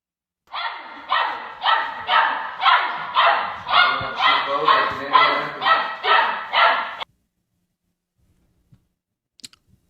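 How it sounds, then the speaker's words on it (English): A puppy shut in a crate lets out a rapid run of about a dozen high yipping barks and cries in steady rhythm, close and loud, then falls silent with a few faint clicks. "letting a puppy just cry it out"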